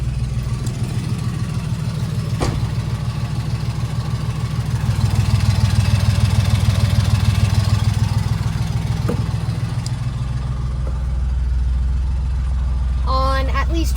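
A Honda Acty kei truck with a new fuel pump and fuel filter idles close by in a steady, throbbing low-pitched putter that swells slightly midway, with a voice talking briefly near the end.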